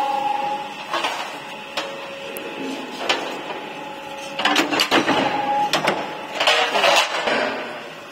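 A factory machine stamps the Prime Gold brand name onto a metal door, producing a series of sharp mechanical clunks and clicks with a faint steady tone, at moderate volume.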